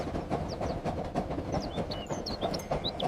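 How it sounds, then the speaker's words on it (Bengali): A cartoon sound effect of a train racing along gives a continuous rattling rumble, with bright bird chirps flickering above it, and no voices. "ট্রেনটা রংধনুর ভেতর দিয়ে ছুটে গেল।"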